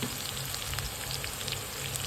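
Oil crackles and sizzles steadily as garlic fries for fenugreek-leaf curry, a dense, even hiss with small pops throughout and no talking.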